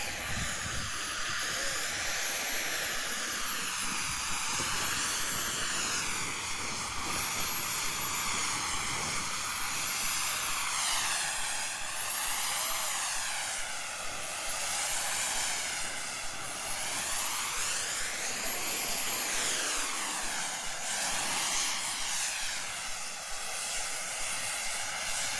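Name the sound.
RC model jet engine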